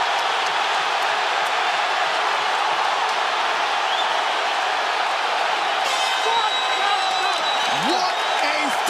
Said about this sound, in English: They are standing and cheering at Barclays Center